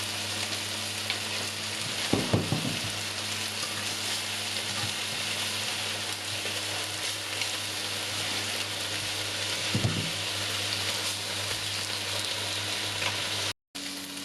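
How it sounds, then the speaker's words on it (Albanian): Chicken fillets fry steadily in a pan of oil, a constant sizzling hiss filling the whole stretch, broken by a couple of brief scraping stirs as the pieces are turned, with no talk. "I shtojmë nga pak vaj. Do t'i kthejmë, do t'i rrotullojmë derisa të skuqen aq sa duam neve."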